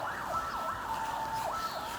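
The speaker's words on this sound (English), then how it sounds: "You guys hear that siren?" An emergency siren passes through the lakeside village of Ajijic on Lake Chapala in Jalisco, Mexico. It wails up and down continuously at a moderate distance, fairly faint over a steady background, with nobody speaking.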